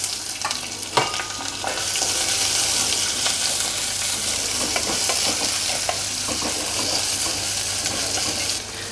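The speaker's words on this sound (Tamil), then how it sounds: "கடுகு உளுத்தம்பருப்பு காஞ்ச மிளகாய் தாளிச்சிடலாம்" Mustard seeds, urad dal and dried red chillies crackle and sputter in hot oil for a South Indian brinjal kuzhambu, a loud, dense, continuous sizzle with a few stirring scrapes, up close and without speech.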